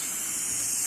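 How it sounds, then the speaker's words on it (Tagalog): White spray paint hisses steadily from an aerosol can into the inside of a floor lamp shade, a close, constant spray with no breaks or talking. "spray the inside."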